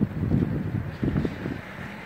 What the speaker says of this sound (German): Es weht eiskalter Wind.